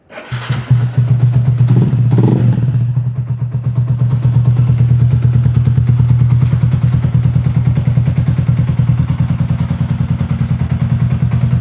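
A 150cc underbone drag race motorcycle engine fires up and holds a loud, close, buzzing rev with a steady throbbing pulse, briefly flaring early before settling into a sustained high drone.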